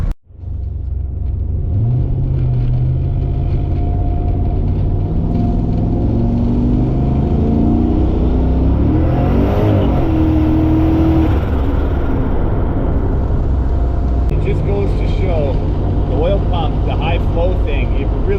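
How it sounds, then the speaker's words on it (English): Low, steady engine rumble from inside a moving car, smooth and subdued with a faint whine rising and falling, no talking. "Just driving around the car right now, you can hardly even hear this car running."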